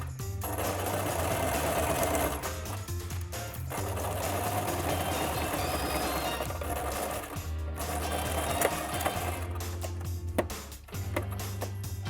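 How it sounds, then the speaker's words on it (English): A sewing machine stitches the shoulder seams of a Mary Quant-style minidress, running in loud steady bursts with short pauses and a final backstitch, close up and without talk. "now I'm just going to stitch 1 centimetre from the edge on both shoulder seams"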